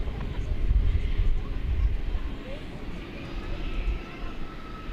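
Jet airliners taxiing and landing on runway 18 Left at DFW Airport, heard from Founders Plaza: a steady, distant low rumble that swells and eases without a break.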